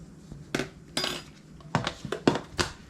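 Gluten-free banana bread batter stirred in a bowl, a utensil clinking and scraping against the sides in several sharp, close knocks with brief gaps between them.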